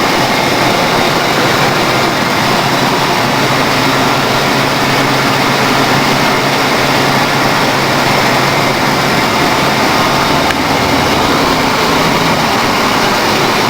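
A 1992 Ford Crown Victoria V8 idles just after a cold start: a steady, loud, dense engine rumble that holds evenly without revving, and no one speaks.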